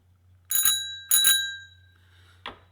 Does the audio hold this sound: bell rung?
yes